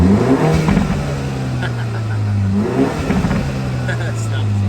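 A 2016 Mini Cooper John Cooper Works with a six-speed manual revs through its exhaust up close, with low engine droning and rising surges of throttle, while someone talks over part of it.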